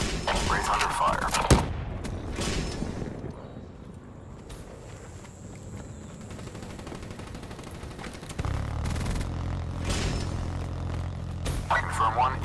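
Black Ops 3 gunfire comes in bursts of rapid shots, some near and some farther off, separated by quieter stretches, with voices heard in between.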